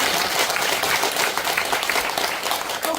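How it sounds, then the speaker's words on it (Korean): Audience clapping in a lecture hall, dense and continuous applause from many hands, loud and even throughout with no voices over it. "박수 한번 쳐."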